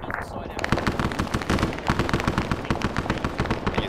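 Rapid, sustained automatic gunfire from a Vietnam War-era battle defending Khe Sanh in Arma SOG, with dense overlapping bursts that are loud and close and continue without a break.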